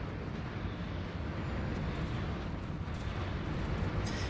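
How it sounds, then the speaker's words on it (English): Missiles and point-defense fire fill a Stellaris space battle as a dense, steady roar of overlapping blasts and rumbling bursts, continuous and fairly loud throughout with no talking. "Just missiles and point defense flying everywhere"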